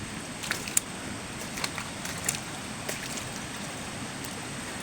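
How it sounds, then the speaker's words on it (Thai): A mountain stream flowing downhill toward a waterfall in Nakhon Nayok, Thailand: continuous rushing water, a steady broadband flow with small splashes and clicks scattered through it, heard outdoors with no talking. "ทางน้ำไหลลงมาจากบนเขานะครับ ไหลลงไปเรื่อยตามน้ำนะฮะ"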